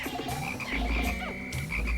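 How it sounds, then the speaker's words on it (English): Frog enemy from the Pikmin video game croaking in several close, loud calls layered over steady in-game music and effects, with no talking. "These frogs are some of the most dangerous enemies you'll find in the game."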